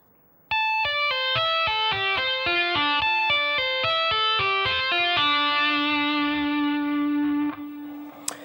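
A distorted electric guitar plays a fast, repeating tapped run of sharp notes for several seconds, ending on a sustained ringing note.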